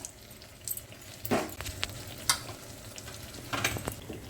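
Beguni, batter-coated eggplant slices, sizzle in hot oil over a high gas flame, a constant frying hiss broken by several louder bursts of crackling and spitting.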